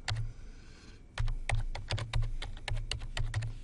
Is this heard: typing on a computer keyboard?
yes